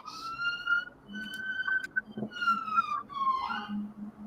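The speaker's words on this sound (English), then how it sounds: "Oh, I can hear some sirens." A wailing emergency siren rises and falls steadily at moderate distance, with faint background noise and a brief thump midway.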